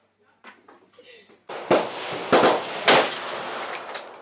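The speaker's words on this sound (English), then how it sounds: "Tried AK-47 for the first time, of course, and it was experience of a lifetime." AK-47 rifle fired at an outdoor shooting range near the Cu Chi tunnels in Vietnam: three loud, sharp single shots about half a second apart, each with a ringing tail, after quieter pops and brief voices.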